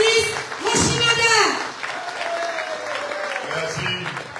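A crowd applauds the party leader at an evening political rally in St François, with steady clapping running under a loud amplified voice and music throughout.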